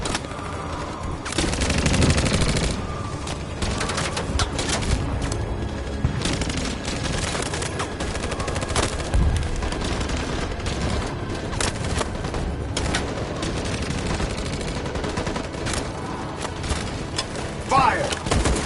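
Gunfire in the video game Detroit: Become Human, dense bursts of shots and booms running through the whole passage, with voices calling out over the battle.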